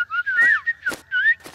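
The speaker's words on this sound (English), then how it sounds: "Mom, what's that sweet sound? It's the songbirds." Cartoon songbirds singing in a neighbor's backyard: a few quick, sweet whistled chirps and rising trills, close and clear with no talking over them.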